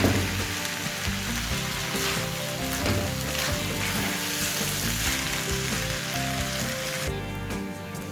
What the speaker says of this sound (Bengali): এবার মিডিয়াম ফ্লেমে সমস্ত কিছু একসাথে ভালোভাবে একটু নাড়াচাড়া করে নেব